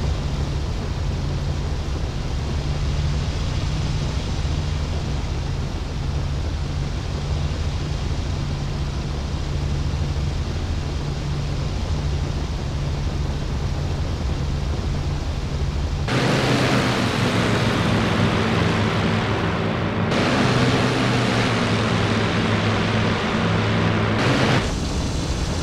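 A Bf 109 F4 fighter comes in to land in the flight-sim game IL-2 Battle of Stalingrad, its engine a loud, steady droning roar that shifts to a rougher, lower-pitched tone partway through, with no talking.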